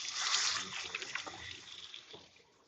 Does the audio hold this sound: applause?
no